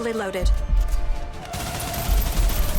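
Sustained rapid gunfire from the shooter video game Snowbreak, a dense crackling barrage with low thumps, loud and close, mixed with tonal game effects and background music.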